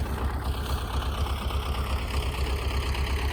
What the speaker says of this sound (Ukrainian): Трактор у мене сам їде.